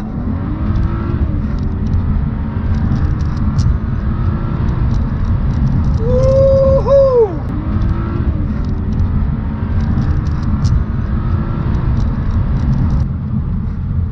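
BMW 335i accelerating under kick-down: a steady engine and road roar from inside the car with a brief rising whine midway, continuous and fairly loud.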